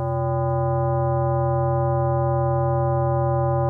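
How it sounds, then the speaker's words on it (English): A steady, loud synthesizer tone from the ACE software synth, a sine wave distorted by modulation into a buzzy sound with strong harmonics, held constant without break. "the sine wave shape is distorted into a much more complex shape with sharper edges"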